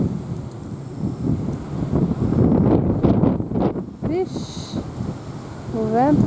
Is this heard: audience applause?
no